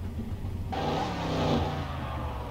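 A 1990 Chevrolet Caprice revs up as it is driven in Car Mechanic Simulator 2021, the engine note jumping sharply louder about a second in and holding a steady, rising roar.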